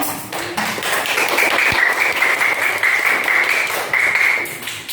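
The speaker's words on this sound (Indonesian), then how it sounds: "Tepuk tangan untuk kelompok 2 yang sudah memperhatikan ini." Classroom applause for a student group at an Indonesian school, steady clapping from a room of pupils sustained for about five seconds, with a few taps and thuds mixed in.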